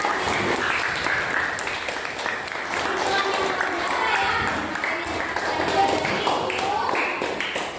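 Classroom full of students clapping together, a steady wash of hand claps lasting several seconds at moderate loudness, with a teacher's voice and some chatter blended in.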